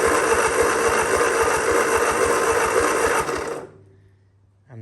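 A Ford 8N tractor engine with no fuel cranks over with a steady rhythmic starter churn for about three seconds, then winds down and stops, loud and close.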